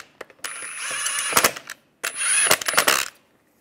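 Lug bolts on a Volkswagen Beetle wheel, fitted with a wheel lock, being tightened in two quick ratcheting bursts, each a whirring rattle ending in sharp metallic clicks, close and alone.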